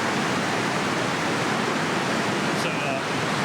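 A river rushes steadily beside a trail campsite on the Big South Trail, a loud, even wash of flowing water filling the whole moment with no breaks.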